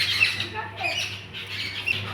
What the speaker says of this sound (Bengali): পাখিগুলো ঝরগা করছে দেখ।